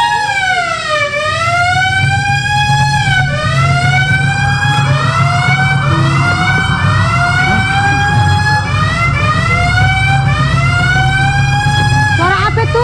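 During a fire drill simulation, a loud fire alarm siren wails in repeated rising and falling sweeps for the whole stretch, over a low rumbling background.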